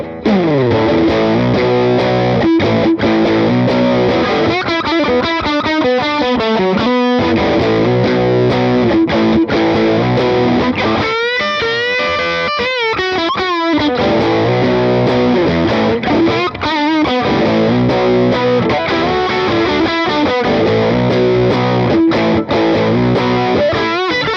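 A heavily distorted electric guitar plays chords and riffs through a Hughes & Kettner Spirit Nano amp head with gain three-quarters up, loud and continuous with a thick, saturated tone.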